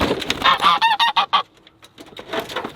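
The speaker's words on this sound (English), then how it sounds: "Even the goose." A goose gives a quick run of loud, nasal honks, close and harsh, then a pause before softer calls resume.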